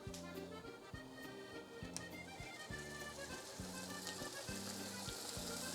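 Steady, crackling sizzle of bacon frying in a pan, continuous and fairly close, with a rhythmic low beat running underneath.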